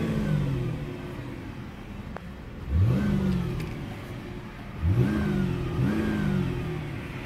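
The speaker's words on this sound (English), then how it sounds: "Listen to me rev it just a couple of times." A 2020 Chevy Impala Premier with a V6 engine idles quietly, then revs up sharply a few times, each rev climbing and falling back, from a mild, subdued exhaust close by.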